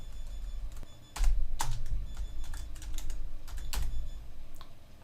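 Quick clicking keystrokes on a computer keyboard while entering text into a program, a close run of taps coming in small bursts with brief gaps, and no talking.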